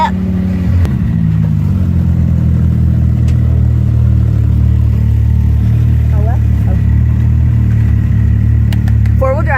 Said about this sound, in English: That's the 2017 CanAm Maverick X3 with the stage 4 RI.